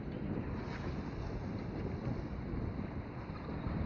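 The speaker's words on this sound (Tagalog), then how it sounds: "yung hangin ang lakas" Strong, steady wind roars across an open sea aboard a boat as service boats race nearby and waves build, a dense continuous rush with buffeting microphone noise and no pauses.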